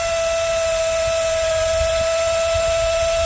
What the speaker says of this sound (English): I'm gonna drill this